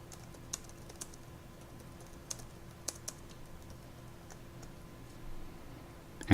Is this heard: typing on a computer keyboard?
yes